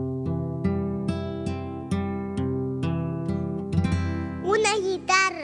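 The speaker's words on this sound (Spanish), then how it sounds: "es una guitarra." Acoustic guitar in a children's instrument-guessing song, strummed chords repeating in a steady rhythm, close and clear, with a brief voice-like melodic phrase near the end.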